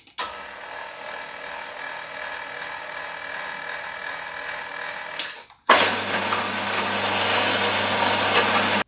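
A drill doing homemade thermal flow drilling runs with a steady high whine, cuts out abruptly partway through, then starts again with a deeper loaded hum for the rest.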